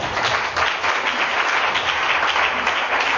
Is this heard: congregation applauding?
yes